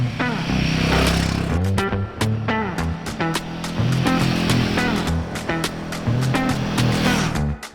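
An adventure motorcycle rides on the street, its engine droning steadily with rising and falling revs and repeated gear changes, close and loud over wind noise.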